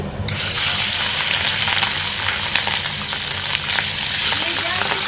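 Prawns dropped into hot oil seasoned with bay leaf burst into a loud, continuous sizzle that starts abruptly and holds steady, with light stirring and crackle throughout.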